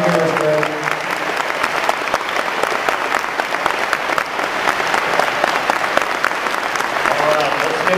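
Audience at a BotCon 2011 Hasbro toy and brand team panel clapping steadily, a dense roomful of applause that holds throughout.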